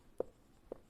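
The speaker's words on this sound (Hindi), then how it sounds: "हम यहां लिखेंगे प्रश्नानुसार" Chalk or marker writing on a board during a class 8 maths lesson, two soft isolated taps or strokes, faint and close, with no speech.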